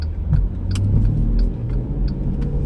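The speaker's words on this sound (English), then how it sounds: "That was a Prius trying to jump that guy." A Toyota Prius accelerates along a Los Angeles street. A loud, close car passes with a low rumble of road and engine noise, and a few faint ticks sit over it.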